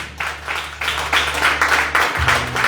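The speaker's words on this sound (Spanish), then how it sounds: "Denle otro fuerte aplauso." Congregation in a church breaking into applause, a dense wash of many hands clapping in pulsing bursts over a low sustained organ-like hum.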